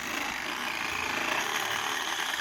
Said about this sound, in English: we just use a zip saw to chop up a bit of wood the same length as the roof rack